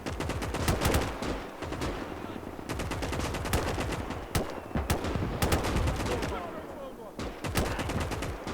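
Dense rifle and machine-gun fire from a World War II Finland campaign battle in the strategy game Gates of Hell, with bursts and single cracks overlapping almost nonstop for the whole stretch and staying loud throughout.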